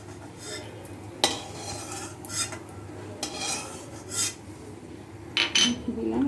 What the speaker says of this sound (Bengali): এই যে সেমাইটা দিয়ে দিব, আর এটাকে সুন্দর করে ভাজবো।